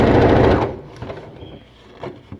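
A sewing machine running fast along a long seam of about 66 inches on a K-pop style scarf, a loud close rattling whir that stops abruptly, followed by a few faint clicks and taps.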